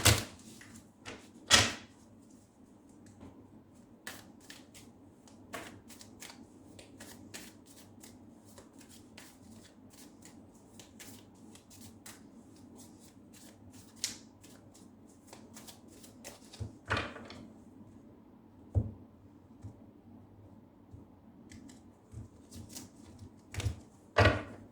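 A Universal-Waite tarot deck is shuffled by hand, with soft repeated riffles and sharper card snaps and taps scattered over a quiet room.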